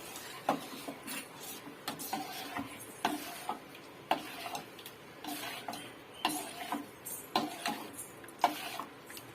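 A spoon stirs coconut milk into a pot of jackfruit payasam, giving repeated close clinks and scrapes in an irregular rhythm over a quiet background.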